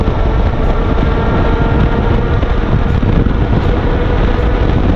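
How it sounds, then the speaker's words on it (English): An e-bike at full throttle gives a steady, loud rush of motor whine and wind noise that holds constant throughout, with no pauses and no talk. "Okay, I've got it at full throttle. Full throttle."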